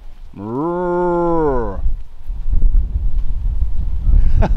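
Cattle in the African bush give one long, loud, close moo, followed by rustling and handling noise at close range.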